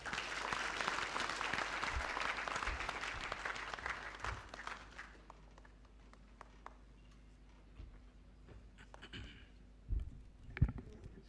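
Anniversary ceremony audience applauds after a speech, fairly faint and distant clapping that fades after about five seconds, leaving sparse scattered claps and clicks over a quiet hall.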